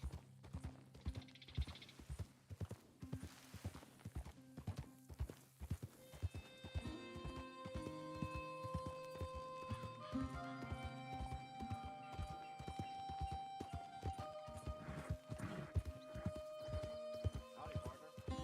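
Steady clip-clop of trotting hooves with an occasional horse whinny in Red Dead Redemption 2, set against a game-style musical backdrop, rhythmic and continuous throughout.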